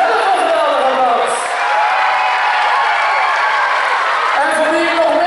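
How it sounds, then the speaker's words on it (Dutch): A big crowd at a children's event in Sevenum applauds and cheers for itself, with loud sustained clapping and scattered whoops that fill the space throughout. "Geef jezelf een geweldige applaus!"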